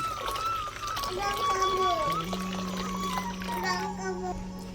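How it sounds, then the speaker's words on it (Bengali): Water poured into boiled, mashed lentil dal for a sour olive dal, a brief pouring trickle under a steady hum, with a voice speaking over it. "পরিমাণ মতো জল দিয়ে দেবো"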